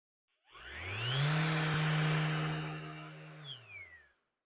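A MAXXT 6-inch random orbit sander with variable speed and an electronic brake spins up, runs at a steady, fairly quiet hum, then winds down quickly.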